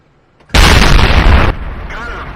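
A tank cannon in World of Tanks fires a single loud, booming shot that cuts in abruptly from near silence, holds for about a second and then decays into a lower rumbling tail.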